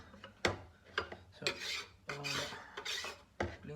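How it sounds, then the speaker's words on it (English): A chopping board being scraped clean while making a homemade meat pie with butter and flour, giving several short rasping scrapes in an uneven rhythm, close and moderately loud, with a brief spoken word at the start. "clean the chopping board."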